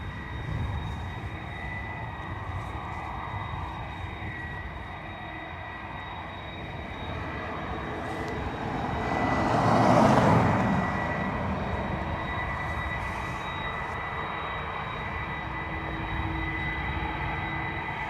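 An Aer Lingus Airbus A320-200 departs Dublin Airport bound for Amsterdam. Its engine roar builds gradually, peaks in a broad swell near the middle, then eases into a sustained distant rumble.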